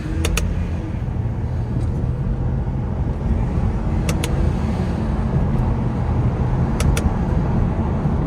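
A BMW E9X car drives along with a steady broadband engine and road roar, while sharp ticking clicks sound in three brief pairs; no one speaks.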